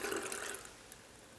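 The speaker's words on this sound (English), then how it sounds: "Now see, the water seems to be going down." Water draining down a freshly unclogged bathroom sink, a brief close rush that fades quickly into a soft trickle.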